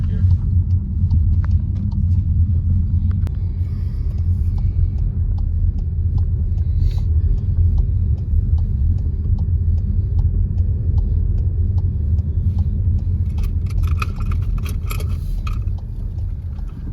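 Inside a moving car, a constant deep road and engine rumble fills the cabin, steady and close, with faint ticks and rattles near the end.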